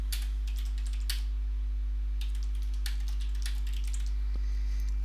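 Typing on a computer keyboard in short bursts of quiet key clicks over a constant low electrical hum.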